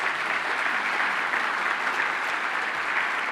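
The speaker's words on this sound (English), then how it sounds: "Let's give a big round of applause to Lake Michigan Credit Union." Keynote audience at a credit union conference gives a big round of applause: dense, continuous clapping from a large crowd, steady and full throughout.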